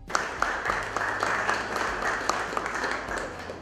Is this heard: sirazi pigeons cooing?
no